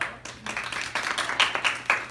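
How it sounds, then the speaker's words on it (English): Applause from a small audience at a workshop, with close, uneven claps that pick up and grow denser toward the end. "Applause for these two lovely ladies for coming in and helping us"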